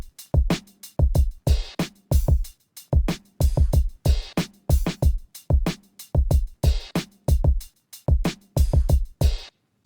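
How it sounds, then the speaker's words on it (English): Odd drum machine percussion sample resembling an open hi-hat, built into an FL Studio drum pattern for a beat, with sharp repeated hits in a steady looping pattern, loud and alone. "Very weird perk. Sounds kind of like an open hat."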